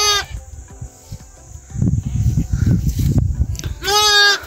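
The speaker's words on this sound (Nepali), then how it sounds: "बाख्रा आइसक्यो क्या हो, पुरा कराइरहेछ" A goat at a farm shelter gives two loud, wavering bleats, one at the start and one near the end, with low shuffling and rumbling noises between them.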